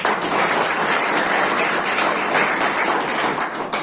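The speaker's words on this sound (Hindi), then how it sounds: "सर के लिए एक बार जोरदार ताली।" An audience applauds loudly at an event in a steady, dense wash of clapping that holds without a break for several seconds, with no voices heard over it.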